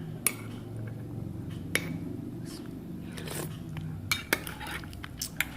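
A metal spoon clinks sharply several times against a thick glass holding a hot drink, in scattered close taps over a low background hum with no talking.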